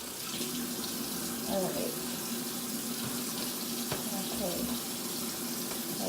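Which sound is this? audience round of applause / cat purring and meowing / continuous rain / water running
water running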